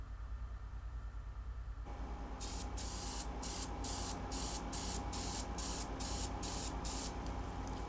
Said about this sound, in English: First I'll spray some clear shellac.